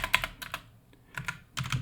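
Quick bursts of typing on a computer keyboard while writing an essay, a few clustered keystrokes, a pause, then more, close and fairly clear with no talking.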